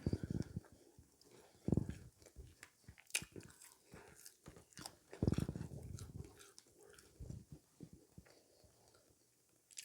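Someone eating seasoned fries chews and bites close to the microphone, with irregular crunchy, wet mouth sounds and soft breaths that stop and start throughout, and no talking.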